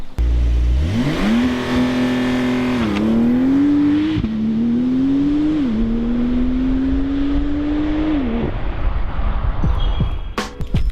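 A 2021 Porsche 911 Turbo S launches hard from a standstill, its engine climbing steeply in pitch through several rising gear pulls with brief dips at each shift, loud and close with no talk over it.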